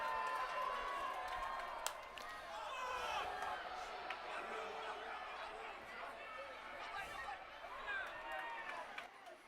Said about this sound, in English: We'll let the crowd do the talking for Joe Olsavsky's at bat